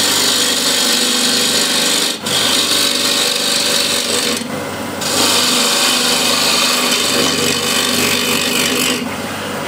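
A wood lathe spins a bowl blank while a gouge cuts the tenon and trues the sides, giving a continuous loud scraping rasp broken by a few short pauses as the tool lifts.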